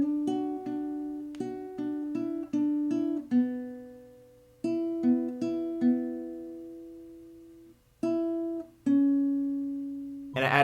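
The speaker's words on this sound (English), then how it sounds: "so I added in this other guitar part." A plucked guitar part in a lofi beat built in Logic Pro X, clean notes and small chords in a relaxed, uneven rhythm with decaying tails and a soft low pulse underneath, alone with no voices.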